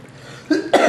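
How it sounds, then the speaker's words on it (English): A single short cough followed quickly by a second, close and fairly loud, from a person making beef stew and Brazilian feijoada in a kitchen. "Excuse me for coughing."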